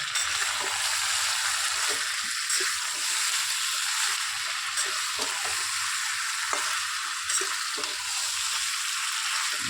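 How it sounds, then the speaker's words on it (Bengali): Garam masala and mutton sizzle steadily in a hot pan, a continuous dense frying hiss with scattered soft spoon scrapes and ticks as the meat is sautéed, no talking. "আমি আগে থাকতে একটু গরম মশলা দেবো, দিয়ে তাতে কষিয়ে নেবো"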